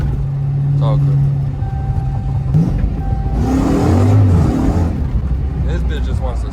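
Dodge Hellcat with catless mid pipes revving on wet pavement, a deep engine swell rising and falling close by under continuous chatter from people nearby.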